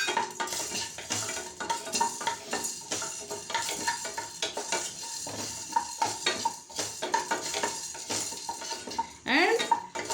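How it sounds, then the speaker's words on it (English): Peppercorns fried in a hot pan for pepper rasam: continuous light sizzling with frequent metallic clinks and scrapes of a spoon against the pan, close and fairly quiet. "First take peppercorns and fry them."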